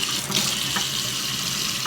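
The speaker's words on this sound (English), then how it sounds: "then I just put some water on top, just so they're gonna steam" Water pours steadily over food in a pan to steam it during a Christmas Eve tofurky dinner, a close, continuous hissing splash.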